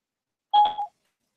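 A phone gives one short electronic dialing beep, a clear tone of under half a second, heard alone against silence.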